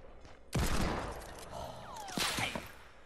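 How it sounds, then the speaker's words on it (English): Sudden burst of gunfire in a video game battle around a building, loud volleys opening sharply and continuing with scattered shots and ringing tails, a voice faintly underneath. "They're shooting at us still."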